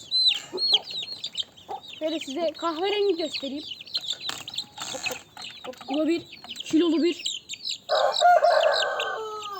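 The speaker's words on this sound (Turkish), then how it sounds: "Bunların hepsi bir horoz." Roosters cluck and crow close by in an irregular series of calls, with one long crow near the end, while someone talks over them.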